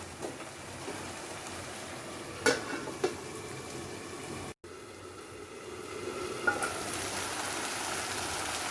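Mixed vegetables with curd cooking in a pan for paneer veg biryani, a steady low sizzle and bubbling with a few clanks of a spoon and lid, briefly cut off midway.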